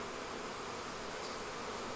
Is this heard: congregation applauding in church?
no